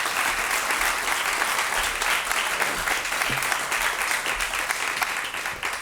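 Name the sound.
audience round of applause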